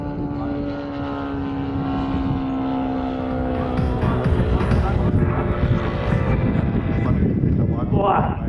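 A large radio-controlled aerobatic model airplane drones overhead in flight, its engine a steady buzzing tone that builds and roughens as the throttle is pushed back in, heard over outdoor background noise.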